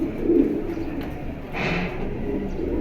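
A pigeon coos softly and steadily nearby, low and rumbling, with a brief higher rustle midway.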